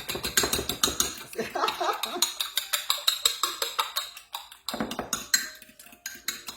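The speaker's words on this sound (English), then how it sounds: "I just find it easier for me just to use an old-fashioned fork." Eggs beaten with an old-fashioned fork in a bowl, a fast steady run of light metallic clicks and scrapes that briefly pauses and then resumes, with a voice speaking quietly under part of it.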